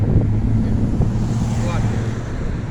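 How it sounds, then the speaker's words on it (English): Steady wind rumbles and buffets the microphone throughout, a constant low roar with no clear voices. "It's always windy when I'm out here."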